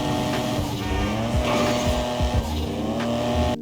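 Engine roars steadily while a car drifts in GTA Online, with tire squeal and skidding throughout and a constant loud revving tone that cuts off abruptly near the end.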